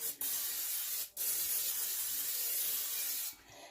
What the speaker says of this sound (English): this pot right now is screaming hot. I'm just going to take some spray